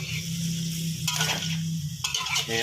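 Snow peas and pork stir-fry in a hot pan: a continuous close sizzle with two bursts of louder scraping and tossing as the spatula moves the food.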